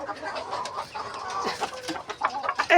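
Caspian chickens clucking nearby in a close, busy stream of cackles and squawks, ending in a louder burst.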